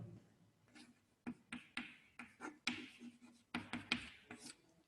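A pen scratches across paper in quick, irregular strokes with short pauses between them, close and fairly quiet, while someone works through an illumination engineering problem; no one speaks.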